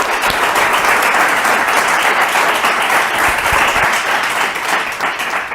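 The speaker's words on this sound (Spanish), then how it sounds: "Un aplauso también" An audience at a talk at the Instituto Juan de Mariana applauds in a dense, sustained burst of clapping that holds steady and loud, then tapers slightly at the close.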